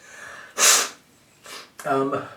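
A close, sharp sneeze, set off by dust from dry orchid bark, erupts early, followed after a pause by a softer breath and a brief voiced sound.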